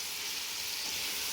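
Potatoes and green peas fry in masala in a pan, producing a steady, close sizzle with no talking.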